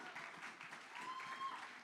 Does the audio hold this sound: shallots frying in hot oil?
no